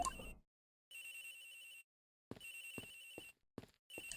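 A phone rings in the Ace Attorney Investigations: Miles Edgeworth game, its electronic trilling tone repeating in short bursts with gaps of silence, quiet and clean with no voices.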